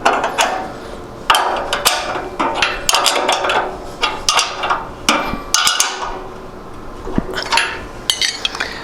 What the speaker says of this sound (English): Now retrieve your wrenches and tighten everything up.